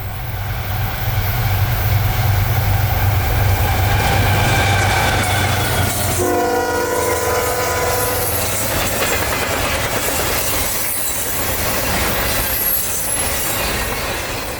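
A CSX Tropicana intermodal freight train rolls past Vitus Junction, loud and close, with a steady rumble and clatter of wheels, a horn blast near the start and a squealing tone partway through.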